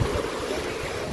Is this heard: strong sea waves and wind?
yes